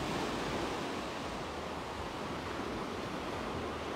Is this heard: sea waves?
yes